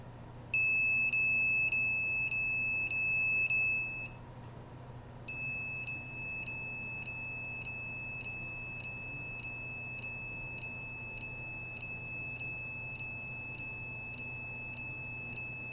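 A radiation detector's alarm beeps in fast, regular bursts of high tones, reading over its limit beside a cell phone running the Twitter app. The beeping pauses briefly near the start and then carries on steadily over a low background hum.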